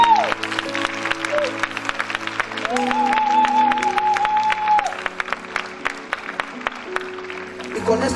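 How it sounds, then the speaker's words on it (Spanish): A church congregation applauds during a Spanish-language sermon, clapping in rhythmic bursts over sustained organ or keyboard chords and a wavering sung or voiced tone, with crowd noise mixed in. "¿Cuánto le dan un aplauso al Señor?"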